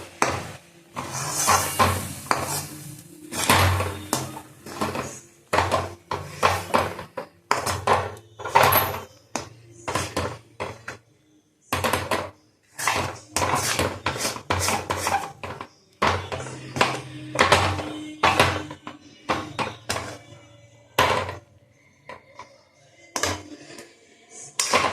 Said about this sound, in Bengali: এটাকে ভালো করে নেড়ে যেতে হবে, যাতে ডালা না পেকে যায়।